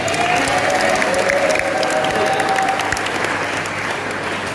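A crowd claps steadily, a dense, sustained round of applause that fades slightly toward the end, with faint voices underneath.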